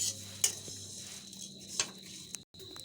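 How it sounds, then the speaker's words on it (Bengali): Two packets of semai vermicelli frying in hot oil over medium-low heat, with a soft steady sizzle, a few sharp clinks and scrapes against the pan, and a brief dropout near the end. "আমি শ্যামাইগুলোকে ভেজে নিচ্ছি।"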